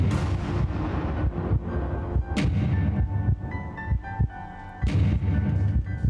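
Rapid video game gunfire in a mannequin horror game, with sharp repeated shots and booming bursts scattered through a dense, loud mix of game sound.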